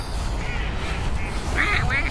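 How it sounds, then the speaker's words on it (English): Ducks quack repeatedly in a noisy outdoor spot, several rapid quacks clustered toward the end over a steady background rumble. "Oh yeah, the ducks laughing."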